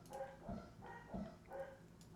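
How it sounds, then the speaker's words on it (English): Several dogs bark at a distance in a quiet room, with a few muffled, spaced barks and yips coming roughly every half second. "Don't mind the dogs."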